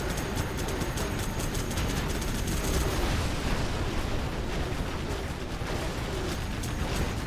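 Dense, continuous battle noise of AK-47 rifles firing in a strategy war game, a steady loud barrage of overlapping shots and blasts with no clear gaps over several seconds.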